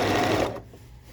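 A sewing machine runs briefly at steady speed, stitching a quarter-inch quilt seam, with a dense close whirr that cuts off abruptly into quiet.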